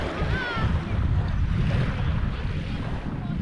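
Calm waves washing onto a Lake Erie beach at Conneaut Township Park, a steady low rumbling wash of surf with wind buffeting the microphone throughout, no talking.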